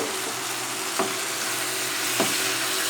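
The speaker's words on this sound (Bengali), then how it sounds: "নাড়িয়ে নিলাম আমাদের ব্রোকলি সবজিটি তৈরি হয়ে গেছে" Bengali-style broccoli curry sizzles in a hot pan after a splash of water, with a steady frying hiss and two brief spatula strokes, no voices.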